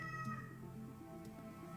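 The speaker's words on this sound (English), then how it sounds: "That's my cat." A pet cat meows close by in a short, clear call, with a faint second mewing sound near the end and no talking.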